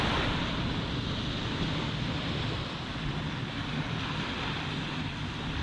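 Surf washes continuously onto an empty California coast beach in the morning, a steady broad rush with some wind over the microphone and no voices.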